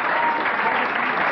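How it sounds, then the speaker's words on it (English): An audience breaks into loud, dense applause for a woman being honoured on stage, a sustained wash of many hands clapping together for over a second. "she deserves a special round of applause"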